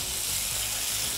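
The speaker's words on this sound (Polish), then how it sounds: "Mięso już ma złoty kolor. Słuchajcie, dodajemy warzywa i smażymy kolejne 2 minuty." Minced meat fries in a pan, giving a steady, close hiss and crackle of sizzling fat that runs unbroken throughout.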